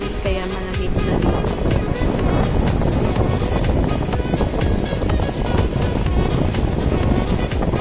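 Wind blows across sunny Ruakaka Beach. It makes a loud, steady, broadband rush with gusty buffeting over the distant wash of surf, and no clear talk.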